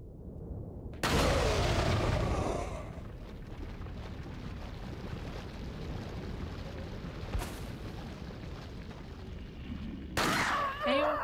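Explosions in the Wii version of Resident Evil 4 during the jet ski stage, a loud boom opening the clip and rolling into a rumbling wash, with another sharp blast near the end and a voice talking over it.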